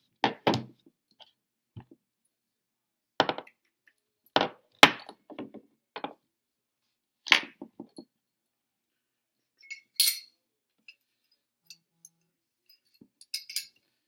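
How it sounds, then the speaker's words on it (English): Metal parts of a pistol clack and click together during reassembly, a series of sharp separate clicks and snaps with quiet gaps between them, close by and with no talk. "And now we'll go ahead and reassemble both weapons."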